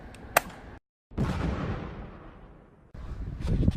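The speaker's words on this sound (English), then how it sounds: "This is Frankenstein explosion, test 1." A test explosion, labelled a Frankenstein explosion test, goes off after a brief silence as a sudden loud broadband blast whose roar slowly fades over about two seconds before a burst of noisy reaction follows.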